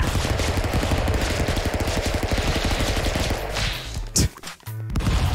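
Rapid bursts of gunfire in the 2D brawler Stick Fight: The Game, a dense stream of loud shots giving way to a few heavy single blasts and crashes near the end.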